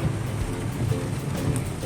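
Steady rain hisses continuously during flooding and traffic, mixed with a low rumbling background, with no voices.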